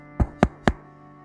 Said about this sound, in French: Ses pensées furent bientôt interrompues par quelques coups à sa porte.